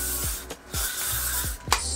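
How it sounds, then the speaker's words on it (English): Hairspray sprayed onto short hair during teasing for an up-style: loud, close bursts of aerosol hiss in several pulses, with short gaps between sprays. "Spray and tease, spray and tease."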